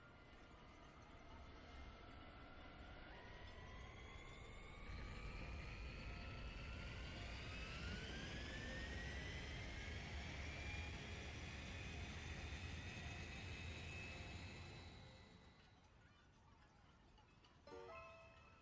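An aircraft takes off in the video game Digimon Story: Time Stranger: a steady, loud engine roar with rising whine tones builds and sustains, then fades away near the end.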